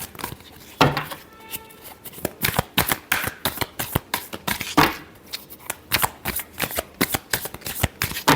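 A tarot deck is shuffled by hand, with quick riffling bursts and sharp card slaps in a fast, irregular rhythm, loud and close, with no talking.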